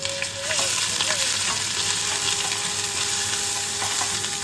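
Onion, ginger and garlic paste hits hot oil and fries with a loud, continuous sizzle, with a few soft stirring clinks over the crackling.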